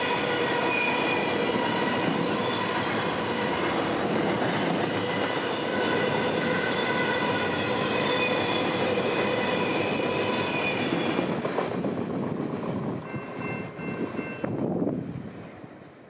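Freight train of containers and trailers rolls past nearby, a loud steady rumble of wheels and cars with clacking rhythm, fading toward the end as the last cars go by.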